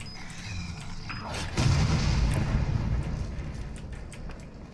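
A bomb blowing up in the video game Resident Evil VII: a low, heavy boom lands partway through over mechanical background noise, then a rumbling tail slowly fades.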